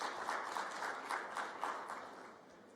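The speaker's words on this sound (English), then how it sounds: "A round of applause for him, please." An audience claps for a Ministry of Communications official at the official closing of the India-Africa ICT Expo 2019 in Kigali, a steady wash of applause with soft rhythmic swells, moderately distant and fading slightly toward the end.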